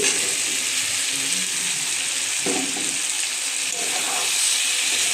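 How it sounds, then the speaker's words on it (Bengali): Jackfruit and potatoes tipped into hot spiced oil in a pan for a jackfruit and prawn curry, giving a steady, fairly loud broadband sizzle and hiss that runs the whole time, with a brief clatter partway through. "এখন আমি দিয়ে দিচ্ছি এঁচোড় আর আলু।"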